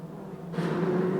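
Modlite speedway race cars launch from the start of an A-Main at Mildura Speedway, the engine roar swelling sharply about halfway through into a loud, sustained, rising drone.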